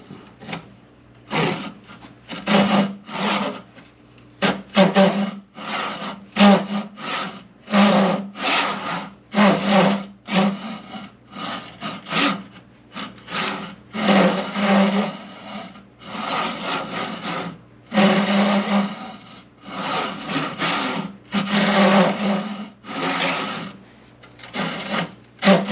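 Pull saw cutting through wood with repeated rasping strokes, a steady back-and-forth rhythm of close, fairly loud scrapes separated by short pauses.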